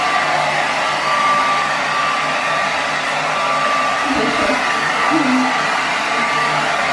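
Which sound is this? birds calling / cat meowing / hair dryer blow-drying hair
hair dryer blow-drying hair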